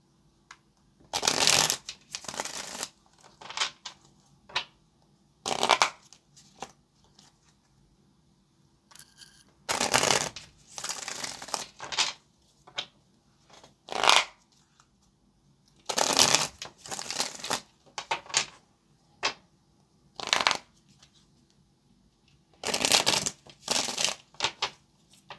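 Tarot cards are shuffled by hand in repeated short bursts of riffling and snapping, close and crisp, separated by quiet pauses with no talking.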